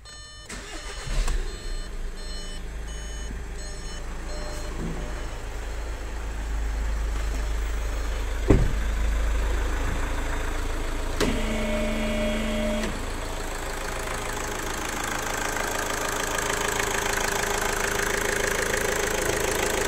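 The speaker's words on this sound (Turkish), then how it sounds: "Motor yağ dolum işleminden sonra ilk marşımızı yapalım bakalım." Car engine cranks and starts for the first time after fresh oil and antifreeze fill, gear in neutral, then settles into a steady idle with some knocking, close and continuous throughout.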